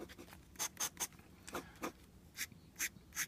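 Pen nib scratching across paper in short, separate strokes, a quiet, close, dry scraping that comes in a loose rhythm of about a dozen bursts with brief pauses between them.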